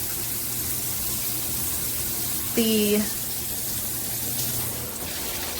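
Steady broadband hiss of water spraying from a G-Promise all-metal 10-inch rainfall shower head, continuous and fairly even throughout, with a brief voice cutting in partway.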